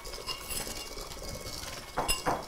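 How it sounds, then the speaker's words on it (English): Eggs are cracked into a bowl and lightly beaten, soft clinks and taps of utensil against the bowl with a couple of sharper knocks near the end. "crack 2 eggs and lightly beat them"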